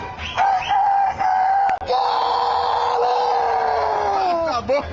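A voice imitating a rooster crow as a cheer for Atlético Mineiro, the Galo, a long loud wavering shout held for several seconds, rising and bending at the end.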